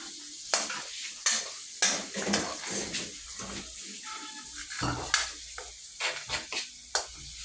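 Food fries noisily in a pan, a busy sizzle broken by repeated clanks and scrapes of a utensil against the metal, loud and close.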